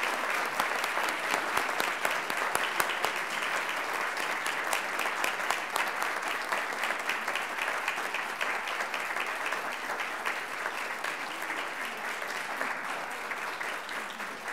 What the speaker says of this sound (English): So please help me applaud the Rogowski family as our family partner in